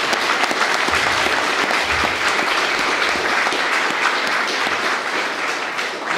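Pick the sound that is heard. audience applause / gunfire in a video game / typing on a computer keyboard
audience applause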